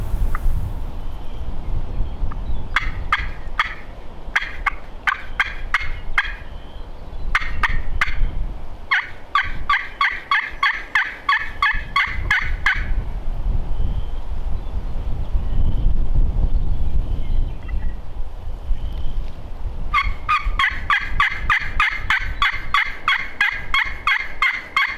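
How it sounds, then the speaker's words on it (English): Merriam's wild turkey hens yelping and yipping outdoors, high-pitched calls in repeated rapid series, some nearer and louder, with gaps between runs and light wind rumble underneath. "Those Miriam's turkeys, those hens, they yip, yip, yip, high pitch, they yelp for a long period of time"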